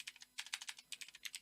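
Quick, light keystrokes on a computer keyboard while entering C++ code, a close, faint run of clicks in an uneven patter with no talking.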